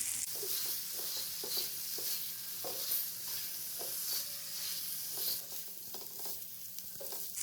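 Goat liver pieces (kaleji) frying on a hot tawa with a steady, close sizzle, broken every second or so by scraping strokes of a spatula stirring the meat, with no talking.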